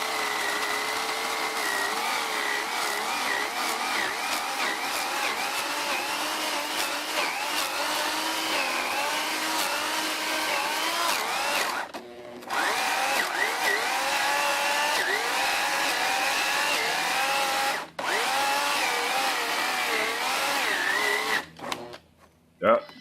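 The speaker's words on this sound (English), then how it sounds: "Okay, listen to the motor here." A Harbor Freight 9 amp 14-inch electric chainsaw runs its motor in a steady, loud whine for most of the stretch, dropping out briefly twice before sputtering to a stop near the end.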